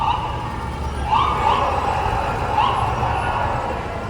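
An ambulance siren wails faintly along a New York City street, its rising tones drifting in from a distance over a constant low rumble of city traffic.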